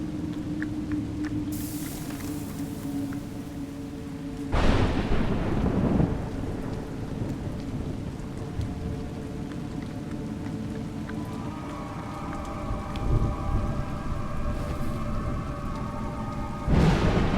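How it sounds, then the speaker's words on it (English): Video game rain pours down steadily while thunder rumbles and cracks, with a couple of louder booms breaking through the continuous downpour. "You seem surprised that rain comes from the heavens."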